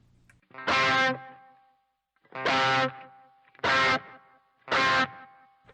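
Four separate distorted chords on an Epiphone Les Paul Special II electric guitar are strummed one after another, each ringing out briefly with a lingering natural tail before the next.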